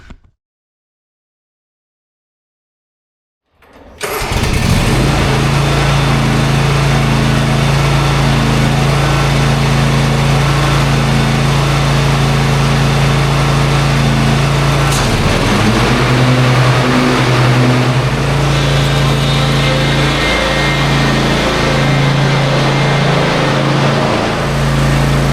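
After a few seconds of silence, a John Deere X350 lawn tractor engine with a mulching deck fitted starts abruptly and settles into a loud, steady running drone close by, with a slight dip in pitch midway.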